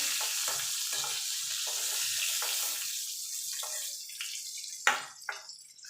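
Pointed gourd (potol) pieces frying lightly in oil: a broad sizzle that thins out, followed by sporadic bursts and a sharper clatter as the pieces are moved about.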